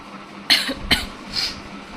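Two short, sharp coughs close to the microphone, followed by a softer breathy cough, in an otherwise quiet room.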